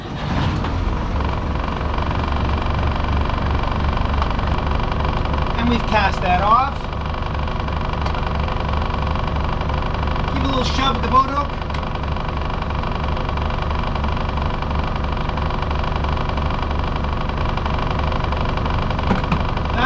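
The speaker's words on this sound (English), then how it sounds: "Good time to start the engine." Engine of a wooden motorboat running and idling steadily throughout as the boat casts off on a summer cruise, a continuous low rumble under nearby voices talking.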